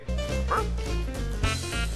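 Two pet dogs at home in an organic, all-natural pet food setting bark and yip repeatedly, a steady run of close, moderately loud woofs with a brief whimpering note.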